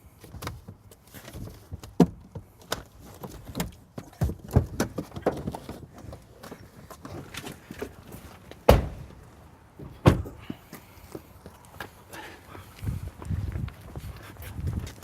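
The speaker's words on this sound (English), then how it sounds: "And then you jump out of the car and run to Nathan" A car door opens and shuts on an outdoor film set, with scattered sharp clunks and thumps, faint shuffling and mechanical clicks spread across quiet stretches.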